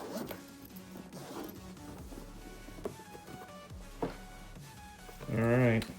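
The carrying case of a Kaiweets KBA01 articulating borescope is unzipped, a short close zipper pull near the end following quieter handling and rustling.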